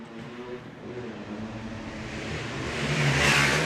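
Race cars accelerate hard off the start of a heat race at Salem Speedway, engines building into a loud, rising roar that swells toward the end as the pack passes close.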